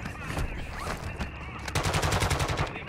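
Rapid automatic gunfire from Call of Duty MW2 DMZ on Ashika Island, coming through a wall, rattles in a dense burst that grows louder and more rhythmic toward the end, with faint voice chatter underneath.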